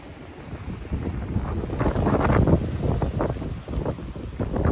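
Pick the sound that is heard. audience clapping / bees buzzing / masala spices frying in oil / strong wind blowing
strong wind blowing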